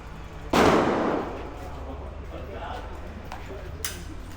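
A single loud, close gunshot at a shooting range in Thailand cracks out and rings into a long decaying tail, followed later by a fainter, sharper second report amid background noise.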